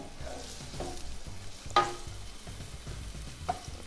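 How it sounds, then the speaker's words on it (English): Onions and minced garlic sautéing in a pan over medium heat, a soft, even sizzle with a few sharp utensil clicks and stirring scrapes, close and fairly quiet, no talk. "We'll just saute that until our onions are translucent"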